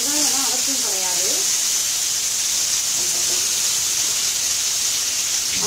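Pumpkin sautéing in hot oil with mustard seeds and curry leaves for a Tamil kulambu, giving off a steady, close sizzling hiss throughout, with a voice speaking briefly over it at the start.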